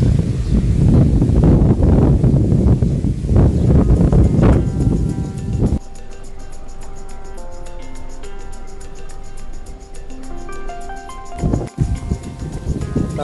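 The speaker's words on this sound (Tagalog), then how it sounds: "Tapos ang lakas ng hangin dito." Strong wind buffets the microphone in loud, rough gusts for the first several seconds, then gives way to quieter background sounds at a riverside historic hotel in the Philippines.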